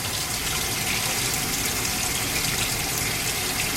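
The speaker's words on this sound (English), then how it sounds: "you just want to make it run so that it's as hot as you can get it" Water pours steadily from a tap running hot, a constant hissing rush that stays even and close throughout, with no voices.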